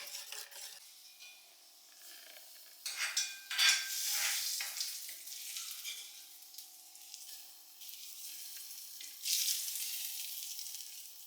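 Curry leaves dropped into hot oil for tempering a kanthari chili dish crackle and sizzle in bursts, flaring loudest twice, with a steady frying hiss between and no talk.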